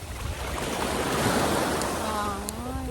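Waves crash steadily onto a Persian Gulf beach at a hotel's private shore, a loud continuous surf roar with wind noise on the microphone and a brief faint tonal sound near the end.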